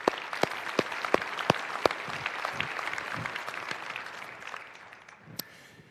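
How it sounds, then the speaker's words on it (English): Applause for a city finance team during a mayor's State of the City address in Riverside, with crisp loud claps close by over a broad crowd clapping that tapers off. "I think that deserves a round of applause for our finance team"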